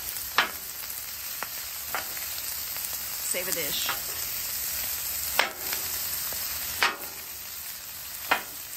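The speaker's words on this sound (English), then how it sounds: "I'm gonna use a good old bench scraper, just like this. Right on the griddle, not a big deal." Bench scraper chopping broccoli straight down on a hot Blackstone griddle for beef and broccoli: four or five sharp, separate metal clacks spaced over several seconds, over a steady sizzle of frying food, with a brief spoken phrase.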